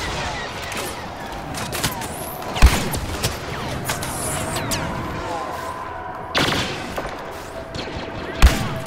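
Cycler rifle fire in Star Wars Battlefront, a few sharp, loud shots spaced several seconds apart over a busy battlefield bed of distant gunfire, with a voice talking.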